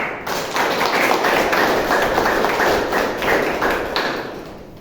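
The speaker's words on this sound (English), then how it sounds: "Let's have a huge round of applause for each of us." A meeting audience on a call gives a round of applause, a dense, steady patter of claps that holds for several seconds at fairly close range and is heard on its own without any talk.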